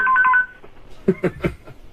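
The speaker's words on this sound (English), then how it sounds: "That's a special ring they have." A special ring on a hotline telephone: a short burst of warbling electronic ring tones, followed by a few louder knocks and clatters.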